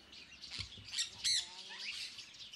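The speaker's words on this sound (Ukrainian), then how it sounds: "У закладі пропонують провести час із птахами." Exotic birds in a Bangkok bird café give short, sharp squawks and chirps, several calls scattered over a couple of seconds against soft room noise.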